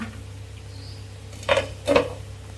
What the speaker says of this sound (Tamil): இப்போ நம்ம ஒரு மூடி போட்டு மூடி வச்சிடலாங்க